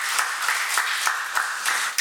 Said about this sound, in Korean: 우리 다윗 성가대 찬양 감사를 드리고 우리 박수로 한번 하겠습니다.